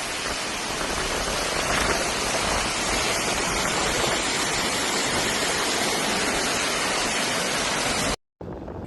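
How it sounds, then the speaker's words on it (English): Heavy downpour in Dubai, United Arab Emirates: a dense, constant roar of rain pounding surfaces that fills the whole scene, loud and unbroken, then cuts off abruptly near the end. "Heavy rains caused flooding and blocked streets in some areas of Dubai, United Arab Emirates on Tuesday."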